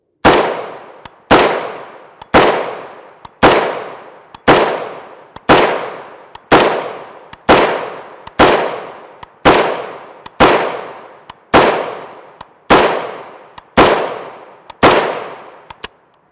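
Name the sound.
gunshots from M92 PAP SBR rifle, 7.62x39mm ammunition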